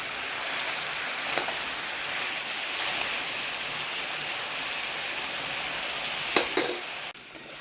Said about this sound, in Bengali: ঘি দেওয়ার পরে একটু নাড়াচাড়া করলাম